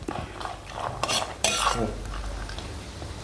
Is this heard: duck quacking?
no